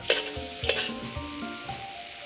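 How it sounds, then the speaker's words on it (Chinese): Cabbage is stir-fried in a hot wok with chopsticks and a spatula after dark soy sauce goes in. A couple of sharp utensil scrapes ring out over a soft, continuous sizzle. "咱们拿筷子跟铲子配合的炒一下"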